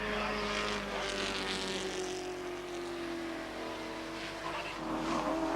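Volvo turbo touring cars racing in 1986 European touring car competition, a sustained high engine whine from several cars passing at a distance, steady and moderately loud with no voices.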